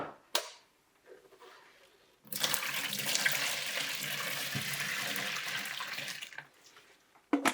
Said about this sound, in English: and fill it up with hot water.